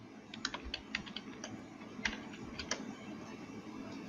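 Typing on a computer keyboard while entering text in Microsoft Word: a steady run of close, crisp key clicks at an uneven pace, with a few louder strikes standing out and no voices.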